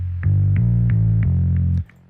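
Deep synth bass notes, the main bass layer of a lo-fi hip hop beat, play a short rhythmic line, loud and close, each note with a sharp attack, ending abruptly.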